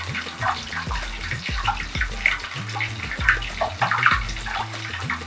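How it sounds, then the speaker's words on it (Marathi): A Korean corn dog fries in hot oil, a steady bubbling sizzle with watery crackles and repeated small splashy pops throughout, fairly close and without any talking. "आता मी दुसऱ्या साईडून पण त्याला व्यवस्थित फ्राय करून घेते"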